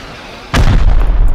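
A rocket explosion in a video game, a sudden loud blast after a quieter moment, followed by a heavy low rumbling tail that lingers to the end.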